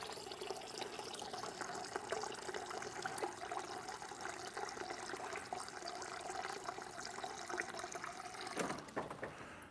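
Water runs steadily and quietly into a vessel while a steak dinner is being cooked at home, a continuous faint splashing stream lasting throughout with a small clunk near the end.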